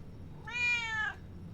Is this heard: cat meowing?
yes